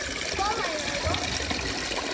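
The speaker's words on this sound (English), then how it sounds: "when we take it out and let it flow over the top, the waterfall runs a little much better" A garden pond waterfall spills over the top of a filter box, giving a continuous bubbling, trickling flow of water with a voice speaking over it.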